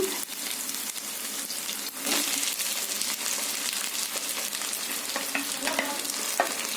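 Boiled, peeled colocasia pieces fry in a pan for a tamarind stew, a steady close sizzle with occasional stirring scrapes and crackles throughout.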